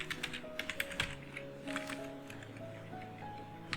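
Keys clack in a quick, uneven run on a computer keyboard while code is entered, close and fairly soft, with brief pauses between bursts and no talking.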